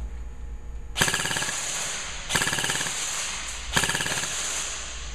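An airsoft gun firing on fully automatic: three separate rapid bursts of sharp BB shots, each about a second long, close and loud against a steady background hum.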